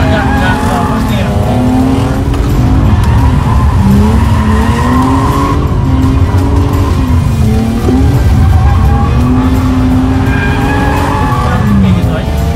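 A BMW E36 drifts on a track with long, loud tire squeals rising and falling over the engine, while a person talks through much of it.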